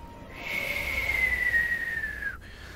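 A human voice imitates the hissing of snake-bodied creatures in a horror role-play game, producing one drawn-out, whistly hiss that slowly falls in pitch and cuts off after about two seconds.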